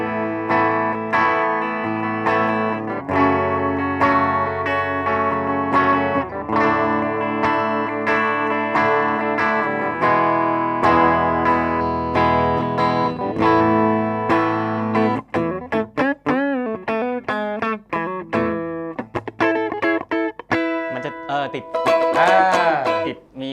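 An electric guitar plays through a Cort CM-10G amp with a clean tone: strummed chords ring out, then quicker single notes and bends toward the end.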